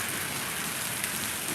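Steady rain falls throughout, a dense, even hiss of drops on outdoor surfaces with no other sounds standing out.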